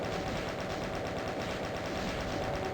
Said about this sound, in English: Use the chain gun for some of these.